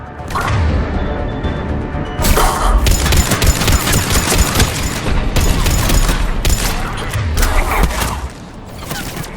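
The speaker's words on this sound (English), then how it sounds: "The cannon fire is clearing the way." Cannon fire on Tuchanka in Mass Effect Legendary Edition booms in heavy, rapid volleys, loud and close, with dense crashing bursts layered over a continuous battle din throughout.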